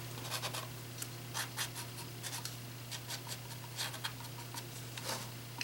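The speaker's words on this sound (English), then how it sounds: "I'm actually laying the fat nib flat and just skimming it over." A fat marker nib is laid flat and skimmed over a canvas edge during pop-art painting, making soft, close scratchy strokes in short repeated bursts over a steady low hum.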